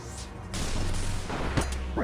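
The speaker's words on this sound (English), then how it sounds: "I freaking love the thundering booms of my range sigil" A ranged sigil attack in Old School RuneScape Deadman Mode lets off a loud, sustained thundering boom that rumbles on for about two seconds, with a sharper crack near the end.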